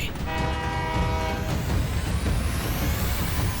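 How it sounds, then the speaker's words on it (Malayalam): An animated cartoon train comes along the track, blasting a loud multi-tone horn over a heavy, continuous rumble of wheels and cars that stays strong throughout. "ഇനി ട്രാക്കിൽ വരുന്ന ട്രെയിനിനെ നിങ്ങൾ എങ്ങനെയാ തടഞ്ഞു നിർത്തുന്നതെന്ന് ഞാനൊന്ന് നോക്കട്ടെ"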